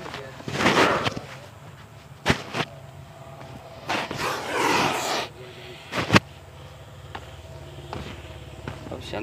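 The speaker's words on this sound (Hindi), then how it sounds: "पूरी फुंकार की आवाज़," An angry cobra gives several loud, breathy hisses in bursts a couple of seconds apart, close by, with scuffing and handling noises between them.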